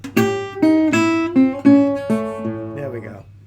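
Acoustic blues guitar lick, eight or so plucked notes and bass thumps in a loose rhythmic phrase, close and clear, ringing out alone.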